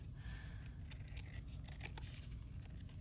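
Scissors snip and trim a handmade paper flower for a junk journal, giving faint, close crisp cuts and light rustling scrapes in a quiet room.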